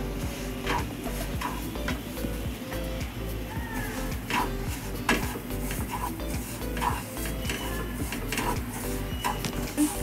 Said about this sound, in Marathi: 1 वाटी रवा घेतलाय. आता हलक्या हाताने भाजून घेते.